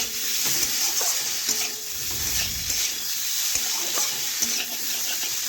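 Boiled potatoes are stirred and fried in a pan with salt. Steady sizzling runs throughout, with spatula scrapes and knocks against the pan, close up and with no talking.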